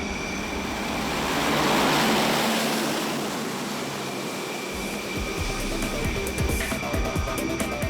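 An E-2 Hawkeye propeller aircraft takes off from the deck of the Charles de Gaulle aircraft carrier, a broad roaring swell of propeller and engine noise that builds, peaks, then fades into steady deck and wind rush.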